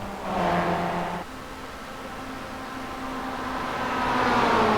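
Engine drone of a sim race car in a video game at Watkins Glen as it exits pit lane, a steady whirring tone that shifts pitch partway through and swells toward the end, no voices.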